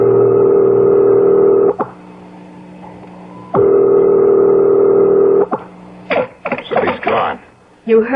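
In a 1970s radio mystery drama, a telephone line gives a steady ringing tone in two long stretches, separated by clicks, followed by a short run of quick tones and clicks like a number being dialed.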